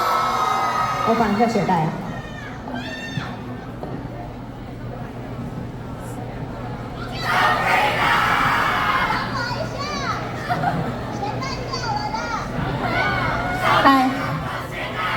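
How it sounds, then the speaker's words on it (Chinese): A crowd of students at a high school concert shouts and screams together, with a loud surge in the middle of the stretch, and close voices chatter around it. "大家给我们听一个尖叫声"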